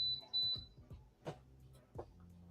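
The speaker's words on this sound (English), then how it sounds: "it's like a beep beep" Two short, high electronic beeps sound close together at the start, followed by a few soft knocks and thumps in an otherwise quiet room.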